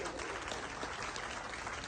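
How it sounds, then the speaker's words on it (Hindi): An audience at a Guru Ravidas Mahasabha gathering in New York claps together, a steady dense wash of applause that stays fairly faint and even throughout. "एक तो बार जोरदार तालियां इनके लिए।"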